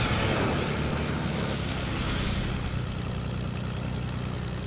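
A video game airplane's propeller engine drones steadily at close range, a loud, even low hum with a slight rise in pitch midway, no talking.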